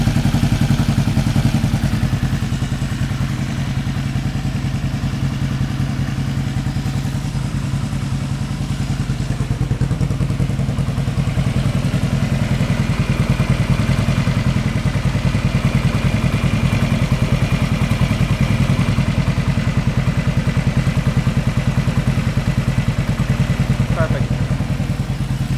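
A Yamaha XS500 motorcycle engine idles steadily after a carburetor sync, a close, continuous low rumble with a faint mechanical clatter and an even loudness throughout.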